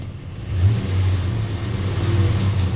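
A 2004 Ram pickup's 5.7 Hemi V8 running rough at idle, a close, loud low rumble that wavers unevenly and lifts slightly with a touch of throttle.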